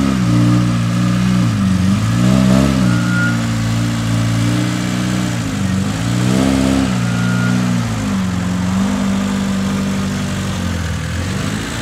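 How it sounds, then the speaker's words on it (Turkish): A Lada VAZ engine runs on the fuel left in its carburetor, a loud close idle with rough low throb and a few brief rises in revs. "Şu an araç karbüratörcüdeki benzinle çalışıyor."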